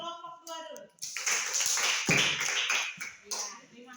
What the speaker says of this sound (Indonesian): Kalau begitu kita tepuk tangan untuk kelompok 2 dulu.